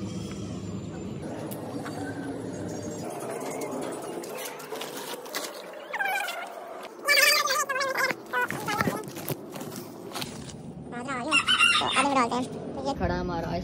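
Chickens cluck and squawk close by in irregular bursts, with people talking in the background.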